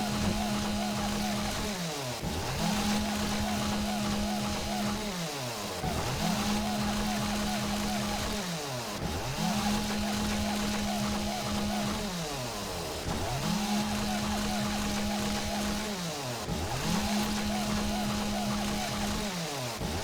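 A motorized chainsaw-style cutting tool from the game 7 Days to Die cuts through wood in a steady cycle, revving up, holding a loud buzzing whine, then dropping, roughly every two and a half seconds, with no talking.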